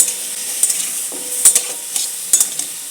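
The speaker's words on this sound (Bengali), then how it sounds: "আমি এই চিকেনগুলো দিয়ে দেবো চিকেন দিয়ে আমি ভালো করে নাড়াচাড়া করে নেব" Chicken pieces sizzling in a hot wok with no oil, stirred with a few sharp scraping clatters of the utensil over a steady close frying hiss.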